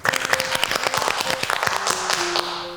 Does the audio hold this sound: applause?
yes